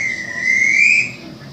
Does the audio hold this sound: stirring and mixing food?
no